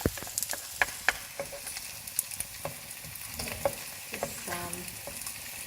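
Chilies, garlic and ginger fry in a hot pan beside pork belly, a soft continuous sizzle punctuated by sharp scrapes and clicks of stirring, close and fairly quiet.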